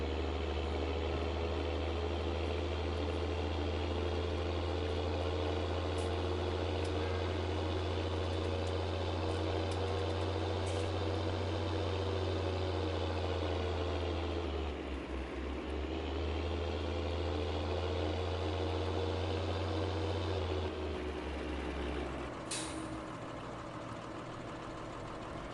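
Idling engine of a small tractor in Farming Simulator 19, a steady low throbbing drone that holds for most of the stretch, dips briefly in pitch, then shifts lower and continues near and constant.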